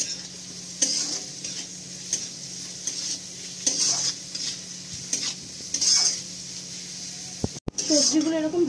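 Carrots and mixed vegetables fry in a pan over low gas for chira pulao, with a steady soft sizzle and repeated scraping stir strokes, ending in a brief clatter; talk is faint in the background.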